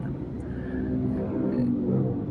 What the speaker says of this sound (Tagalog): Grabe na po ang traffic ngayong araw na po ito.